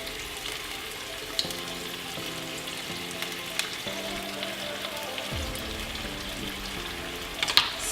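Tomato paste sizzling and frying in a pan for Singaporean chili crab, a steady crackling sizzle with occasional stirring scrapes and clinks, close up and without talk.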